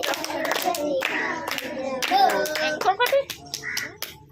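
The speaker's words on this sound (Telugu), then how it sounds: "చేతులెత్తి చప్పట్లు కొట్టి చాటెదను" Hands clap in a steady rhythm during a Sunday school song, with children's voices singing and calling over the loud, close claps.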